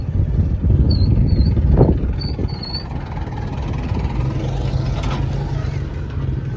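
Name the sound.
tractors arriving at a wedding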